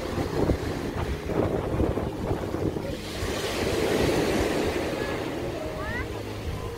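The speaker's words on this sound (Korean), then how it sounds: "야, 지금 바람이 엄청나요. 물고 파도가 엄청납니다. 아, 굉장히 파도가 심하네요." Strong wind and rough surf at Hanagae beach on Muuido island, a steady roar of crashing waves and gusting wind buffeting the microphone, with someone talking over it.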